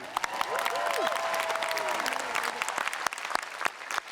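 Audience applause fills a commencement ceremony, steady and loud throughout with scattered whistles and cheers rising above the clapping.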